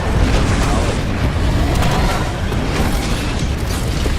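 Gibraltar's barrage explosions in Apex Legends make a dense, continuous rumble of booms and bursts that fills the whole moment loudly, with no clear gaps between the blasts.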